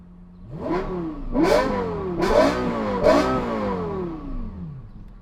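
A Lexus LFA engine revs hard in four sharp bursts, each pitch climbing quickly and then falling away, with a shrill high-revving wail close to the listener and no talking.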